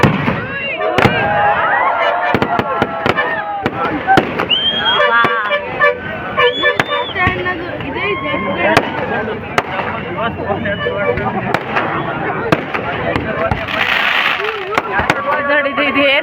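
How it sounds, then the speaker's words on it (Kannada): Firecrackers burst in quick, irregular succession at a village Ganesha festival, with sharp loud cracks mixed with vehicle horn toots. A noisy crowd talks and shouts throughout. "ನೋಡಿ ಎಷ್ಟು ಚೆನ್ನಾಗಿ ಹೊಡಿತಾ ಇದ್ದಾರೆ ಪಟಾಕಿ ಅಂತ."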